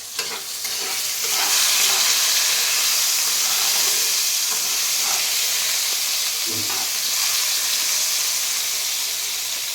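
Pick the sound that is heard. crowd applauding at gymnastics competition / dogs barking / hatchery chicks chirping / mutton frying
mutton frying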